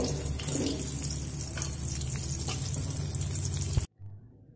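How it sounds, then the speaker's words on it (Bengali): Pieces of pointed gourd (potol) frying in oil: a loud, steady, close sizzling hiss that cuts off abruptly near the end, leaving a quiet low hum. "তো এবার আমি পটলগুলো তুলে নেব, আর একইভাবে বাকি পটলগুলো ভেজে নেব"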